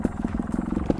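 A small trial motorcycle engine revs in a quick, pulsing throttle blip, its low throbbing exhaust close by.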